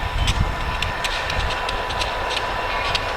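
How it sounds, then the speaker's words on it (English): A train rolls past during a snowstorm near Randville, Michigan, giving a steady, fairly loud rumble with faint clicking and rattling on top and no voices. "We've already got a train heading north."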